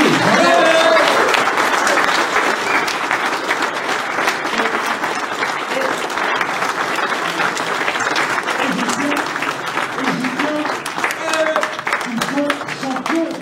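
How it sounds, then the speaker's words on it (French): A crowd at a French fishing championship podium ceremony applauds the winners, sustained dense clapping from many hands, loud and fairly close, while someone talks over it through a microphone for much of the time. "Vous applaudissez."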